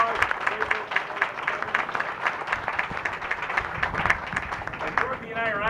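Audience applause for Boy Scout Troop 133 at a public gathering with Virginia's governor in Gloucester, a steady dense wash of clapping hands lasting throughout, with some voices mixed in.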